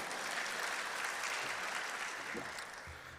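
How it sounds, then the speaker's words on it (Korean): Dense, continuous applause from a church congregation during a Sunday worship service, faint and somewhat distant, thinning slightly as it tails off. "격려 박수 주시기 바랍니다"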